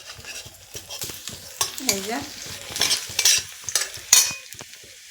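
Food stirred and fried in a hot wok gives a busy sizzle broken by repeated scraping and clattering strokes of a utensil, with a few short spoken words over it.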